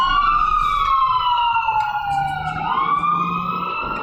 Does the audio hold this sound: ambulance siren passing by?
yes